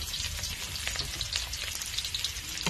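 Onion, garlic and ginger sauté in a hot pan for a Kapampangan dinengdeng, giving a steady close sizzle and crackle of frying with occasional stirring, no talk.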